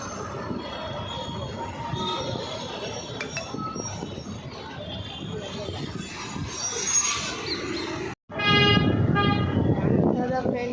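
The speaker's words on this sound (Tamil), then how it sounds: "பாருங்கள், எவ்வளோ டிராஃபிக்கு." Heavy road traffic crawls through the busy Majestic area of Bangalore, a dense, loud rumble of engines close by with car horns honking repeatedly, especially in sustained blasts near the end.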